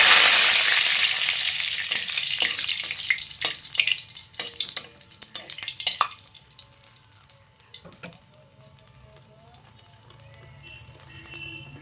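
Dried red chilli and three small bay leaves hit hot oil with a loud hiss that fades steadily, a few sharp crackles and clinks scattered through it as the sizzle dies down to near quiet.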